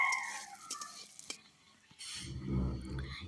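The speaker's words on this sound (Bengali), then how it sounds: "এবার আমি মুসুর ডালটা দিয়ে দিলাম মুসুর ডালটা খুব ভালোভাবে ভেজে নেব" Red lentils and vegetables frying in a pan, with a soft start of light scraping and stirring that gives way to a steady, louder sizzle in the second half.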